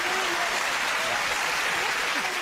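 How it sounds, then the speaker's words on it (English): Studio audience on a British TV panel show bursts into dense, steady applause that holds at full strength throughout, with a voice faintly audible beneath it. "I don't think I've ever heard them clap so much."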